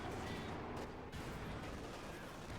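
Dense, continuous gunfire and battle noise from a Company of Heroes 2 match, with a machine gun supporting Soviet guardsmen near the centre victory point; loud, steady rattling throughout without pauses.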